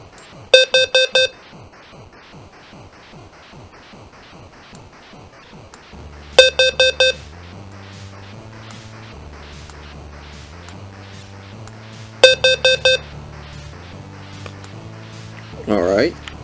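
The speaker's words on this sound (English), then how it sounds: "Next up we have temporal 4," Temporal-4 carbon monoxide alarm tone: three groups of four rapid high electronic beeps, spaced several seconds apart, loud and close, with quieter background sound and talk between the bursts.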